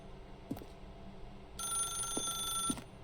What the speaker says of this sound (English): Can you answer the phone, please?